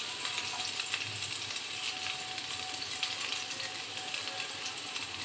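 Onions frying in a pan on medium heat for a sour green mango dal, a steady, even sizzle with soft crackle throughout and no voices.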